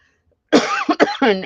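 A person coughs close to the microphone, a harsh fit of three or four rapid bursts that starts after a short silence, with no talking.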